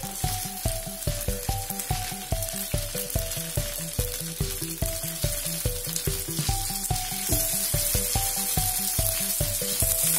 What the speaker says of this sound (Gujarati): તો તેલની અંદર આ રીતે ચિપ્સ આપણે મૂકી દેવાની છે